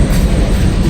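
Long freight train rolling past on the I&O rail line, a steady close rumble of railcars with faint clickety-clack from the wheels throughout, no voices.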